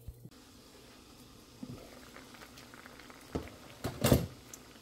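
Beans bubbling in a cooking pot, with a quiet simmer building into louder wet bursts and pops toward the end, heard alone and close.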